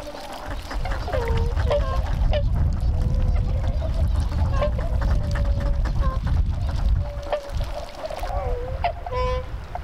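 Tundra swans at the Mihouda wintering pond give repeated short honking calls, several birds scattered across the scene over a loud, steady rush of water or wind.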